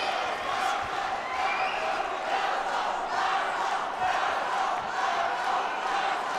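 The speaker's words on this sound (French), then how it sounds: "Le public qui l'applaudit." A dense, roaring crowd at a fencing final fills the space with continuous noise, cheering and clapping together at a steady level throughout.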